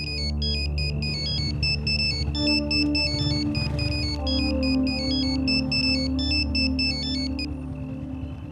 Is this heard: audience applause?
no